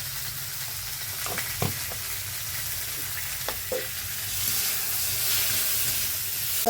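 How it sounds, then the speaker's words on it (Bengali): Onion and potato fry lightly in a pan with oil, giving a steady close sizzling hiss broken by a few soft clinks and stirring scrapes. "অল্প ভেজেছি পেঁয়াজ আর আলুটা"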